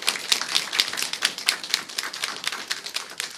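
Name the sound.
congregation applause welcoming a new member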